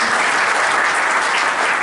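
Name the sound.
audience applause welcoming a guest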